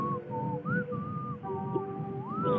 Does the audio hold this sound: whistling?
yes